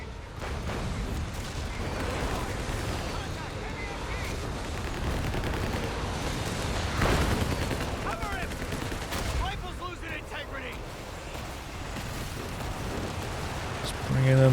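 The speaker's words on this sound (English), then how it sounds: "Just bringing in the rockets." Rocket artillery and gunfire from a Company of Heroes 3 2v2 match rumble continuously, with dense overlapping blasts and a stronger volley around the middle, under a commentator's talk.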